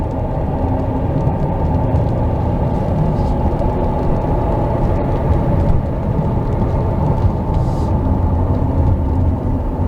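Steady low rumble and whir of a 2022 Hyundai Santa Fe with a failing transmission, heard from inside while driving, continuous and loud with no pauses or voices.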